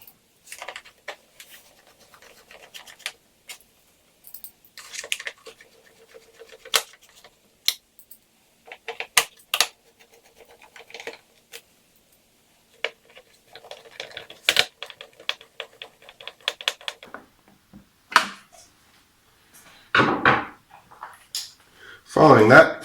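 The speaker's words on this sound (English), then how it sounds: "we're going to screw these four screws and these two screws and these two screws back in place" Screws are driven back into a Mustard Bikes tail tidy on a 2017 Honda CBR1000RR, heard as scattered close clicks, scrapes and short ratcheting bursts, with quiet gaps between them.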